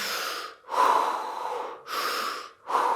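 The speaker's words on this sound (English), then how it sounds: "you're using deep breathing as you're moving" Deep, heavy breaths in a bioenergetics body-shaking exercise: three long, loud, airy inhale-exhale cycles close to the mic, each breath rasping and rhythmic with brief pauses between.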